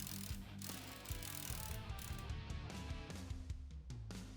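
Ratchet and 18mm socket loosening outer rear trailing arm bolts on a 2016 Camaro SS, giving a steady run of close, clicking mechanical rattles with metallic knocks throughout, no talk.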